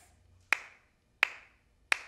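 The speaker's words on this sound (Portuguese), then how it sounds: "Palmas" Three sharp, loud hand claps spaced evenly about two-thirds of a second apart, each crisp and alone in a quiet room after faint background murmur.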